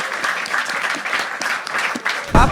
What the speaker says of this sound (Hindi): एक बार तालियां यार कनिका चौधरी के लिए।